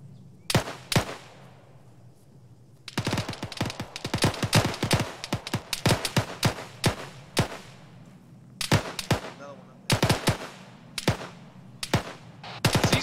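Rifle gunfire during a military field training exercise, sharp outdoor shots cracking in irregular clusters and rapid strings, some single reports, with short gaps between volleys over about thirteen seconds.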